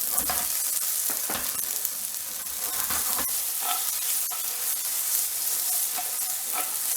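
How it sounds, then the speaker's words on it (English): Snap peas flash-fry in sesame oil in a pan, giving a loud, steady sizzle with scattered crackles and spatula scrapes close by, and no voices. "I'm going to put just a little drizzle of sesame oil in this pan, and I'm going to throw in my snap peas. I'm just going to flash fry these"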